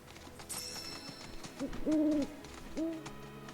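A hooting bird call from the Final Fantasy VII Rebirth video game: a few tonal, owl-like hoots, the longest in the middle and a shorter one after, over soft game ambience.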